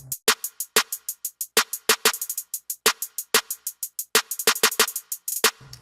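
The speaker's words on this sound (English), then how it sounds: "So if I can put the snare and the hi-hat together, it'll sound something like this." Trap beat programmed in FL Studio, with a snare and a hi-hat playing together: a steady stream of sharp hi-hat ticks with fast rolls, broken up by punchy, heavier snare cracks, all clean and up front.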